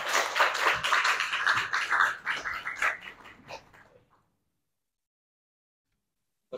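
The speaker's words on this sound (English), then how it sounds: "you can give them a round of applause" Audience at a climate action workshop clapping for panelists taking the stage, a crisp burst of many hands that fades out after about four seconds into silence.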